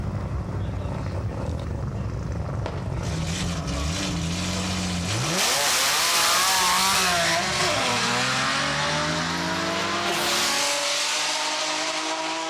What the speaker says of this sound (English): This Z32 has been running at Sendai for a couple of years now with a naturally aspirated VG30 engine and 6-port nitrous system.